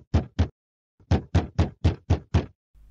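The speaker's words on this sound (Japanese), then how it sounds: "1時間後、うるさくドアを叩く音がした。" Loud knocking on a hotel room door, sounding as two quick raps, a pause, then a rapid run of six more hard knocks, close and sharp, with no voices over them.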